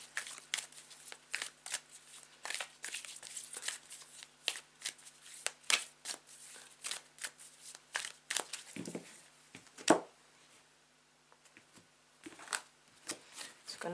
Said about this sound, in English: now is the time to take a couple of deep breaths whilst I shuffle it